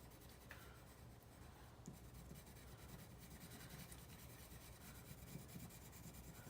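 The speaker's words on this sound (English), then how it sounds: "And maybe I'll just shade it in with a little color pencil." Colored pencil shading on a paper page of a Happy Planner: a steady, soft, continuous scratchy rubbing of lead on paper, close and faint, with no talking.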